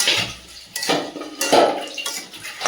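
Metal pots and utensils clatter and clink in a home kitchen where singi fish is cooking with bottle gourd, stems and tomato; several sharp knocks and scrapes come close by in an irregular rhythm.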